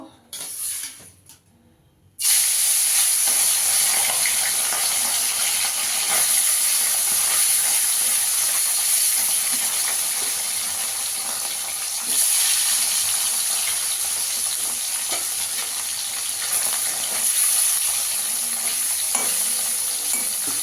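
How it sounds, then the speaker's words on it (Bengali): Fish fry in hot oil in a wok with a loud, steady hiss and sizzle that starts abruptly after a brief quiet moment and continues alone without talk. "এবার মাছগুলোকে ভেজে নেব।"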